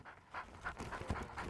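Blue heeler cattle dog on a two-wheeled mobility cart panting in quick, steady rhythmic breaths, close and moderately loud, with no voices.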